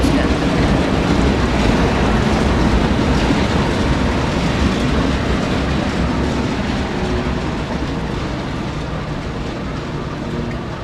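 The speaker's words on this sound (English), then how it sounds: "the 4 locomotives behind 9030 and 3004, which are passing by the screen now" A loud, continuous rumble of four heavy freight locomotives rolling past close by in central Florida, with steady rail clatter throughout.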